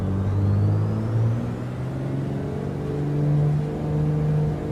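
Light aircraft engine at takeoff power in Microsoft Flight Simulator, a loud, steady droning roar that swells and eases slightly as it holds full throttle.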